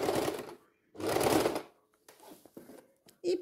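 Sewing machine running a second seam on a fabric eco bag handle: two short close bursts of rapid stitching, then quieter clicks and handling of the machine, and one brief final burst.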